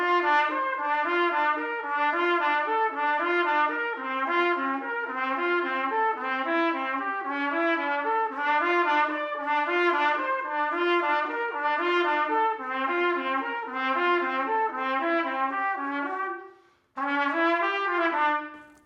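A brass lip flexibility exercise with the beat displaced, played as a continuous stream of slurred, bright tones moving between harmonics. It breaks off briefly near the end, then resumes, with no talking.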